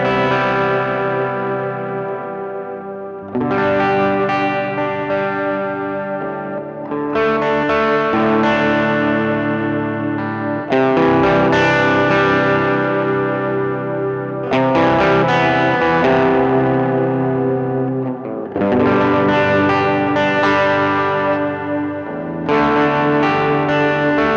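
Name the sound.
guitar through Hotone Verbera convolution reverb pedal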